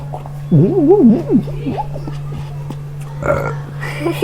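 A voice imitates a loud, drawn-out burp with a wobbling pitch, followed by quieter vocal sounds.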